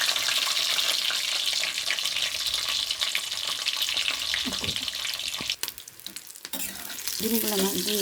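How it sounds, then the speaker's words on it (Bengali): Eggs fry in a hot pan with a continuous loud sizzle and occasional stirring scrapes, a brief quieter gap near the end as the pan is moved. "এবার ডিমগুলোকে ভালো করে আমি ভেজে নেব"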